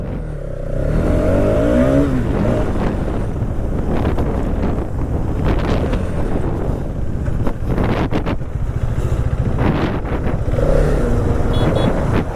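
A Hero Xtreme 250R motorcycle pulls away on a test ride, its engine note climbing as it accelerates through first gear, loud and close under heavy wind buffeting against the microphone.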